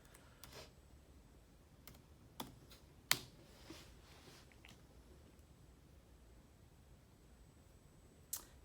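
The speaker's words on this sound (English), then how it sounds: "So I'm going to go ahead and type on this password." Password being typed on a computer keyboard, heard as a few sparse, soft key clicks and taps at irregular intervals over a quiet room background.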